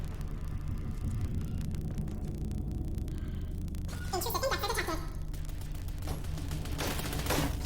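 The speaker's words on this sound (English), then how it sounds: "You notice how your turrets are always shooting at the red things." Automated turrets in a video game fire steadily at enemy targets, a dense continuous rattle of gunfire over low rumbling game noise, with a brighter burst of shots partway through.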